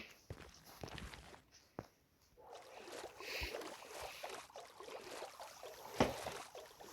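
A boat moves over water in a Minecraft hardcore world, with soft paddling splashes and sloshing that thicken into a steady rolling wash, plus a few sharp clicks early on, all fairly faint.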